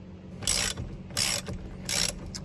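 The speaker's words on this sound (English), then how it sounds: "take your breaker bar, and pop it loose." Three rasping ratchet-like bursts, each about a quarter second long and evenly spaced, close and clear with no talking, from a breaker bar on an Allen 10 bolt during a Mercedes electronic steering lock repair.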